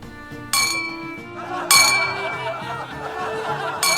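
Glasses clink in a toast at a festive party, with three bright, ringing chimes spread over a few seconds above a low murmur and faint laughter.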